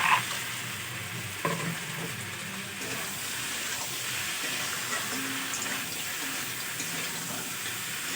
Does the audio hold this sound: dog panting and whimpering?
no